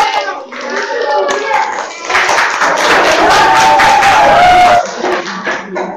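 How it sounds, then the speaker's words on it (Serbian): A small group claps during a family Easter conversation about the festive lunch, a short burst of scattered handclaps rising over a couple of seconds under children's and adults' voices. "aplauz."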